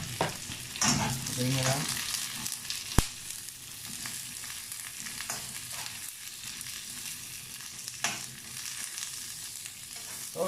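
Onion, garlic and chili sizzling in a pan, a steady close frying hiss broken by occasional scrapes and clinks of stirring, with a brief spoken phrase early on.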